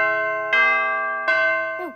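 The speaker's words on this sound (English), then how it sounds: "Oh, that's the bell. Time for class." A school bell chimes inside the Roblox game Royale High, a clear loud ringing tone struck twice, each strike sustaining and slowly fading before a final note bends downward and cuts off.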